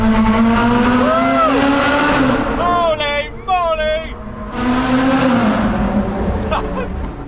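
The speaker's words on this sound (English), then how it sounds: "I want to listen to the screaming V8." A McLaren 720S Spider's V8 engine revving loudly, with rising and falling howling pitch sweeps as it accelerates and shifts, close and powerful, while a person exclaims over it.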